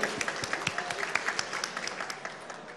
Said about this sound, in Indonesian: kita beri aplaus untuk Bapak Yandi